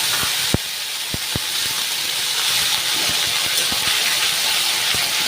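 Ginger, cumin and green chili paste fries in hot oil with bay leaf, dried red chili, whole garam masala and cumin seeds, giving a loud, continuous close sizzle dotted with sharp scattered pops.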